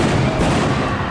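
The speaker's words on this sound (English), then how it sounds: "there's gunshots somewhere, but I'm pretty sure that's just special effects" Gunshot sound effects at the Kings Island Halloween Haunt masquerade-ball scare zone: a short, loud, dense burst of crackling blasts with no pause and no talk.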